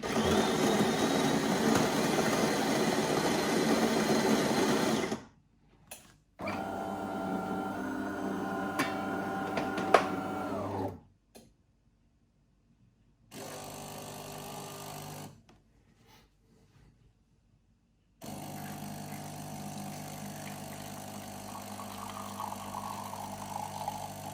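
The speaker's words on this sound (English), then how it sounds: "where you have the coffee grinder." DeLonghi Magnifica S ECAM22110B espresso machine after two years of use, running in bursts: a loud grinding whir, pauses, then pump hums and steady brewing noise, alone with no voices.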